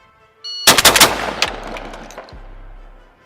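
A Remington V3 Waterfowl Pro shotgun is fired as fast as possible, a loud close burst of about five rapid blasts followed by fading echoes and rattling.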